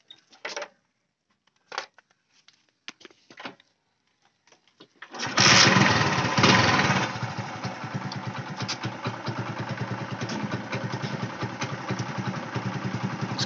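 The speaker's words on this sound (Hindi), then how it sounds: "अभी आपको हम स्टार्ट करके बताते हैं।" After several seconds of quiet with scattered clicks and taps, a motorcycle engine cranks and fires, flares loudly, then settles into a steady, close idle.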